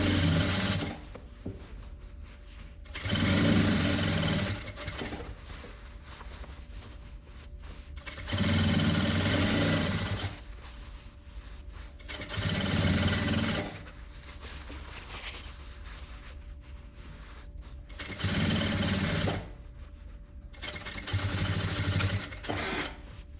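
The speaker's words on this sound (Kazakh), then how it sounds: "Енді ары қарай жағанда, жағадан да тігіп жіберейік." An electric sewing machine stitches along the collar of a stand-up-collar vest in several distinct bursts of rapid whirring, each lasting a few seconds, separated by quiet pauses; close and clear with no talking.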